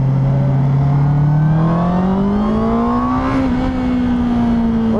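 Honda CB650R four-cylinder motorcycle engine revving high, its pitch climbing smoothly and steadily as revs rise, loud and close with a brief dip near the top before holding, no talking.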